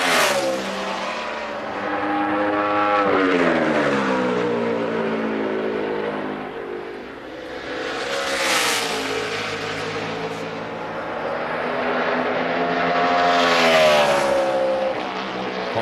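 NASCAR race cars at the 2014 Quicken Loans Race for Heroes 500 qualifying roar around the track, engines swelling and fading as they pass in repeated waves, heard without commentary.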